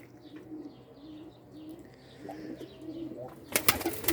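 Pigeons coo softly and repeatedly at low volume, with faint chirps, followed near the end by a loud burst of wing flapping close by.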